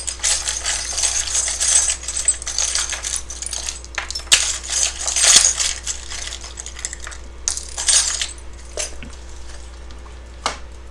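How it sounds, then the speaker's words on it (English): Small metal charms shuffled around inside a little charm box, making a continuous bright clinking and rattling with sharper jingling bursts, close and fairly loud. "I don't actually look in this little charm box as I shuffle around."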